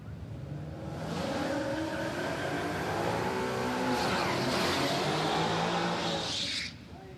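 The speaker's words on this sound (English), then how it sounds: "Brad Price around for another one in the Mustang" A Ford Mustang drag car makes a run at Palmyra Raceway, its engine roaring loud and close as it builds through rising revs, holds high, then cuts off near the end.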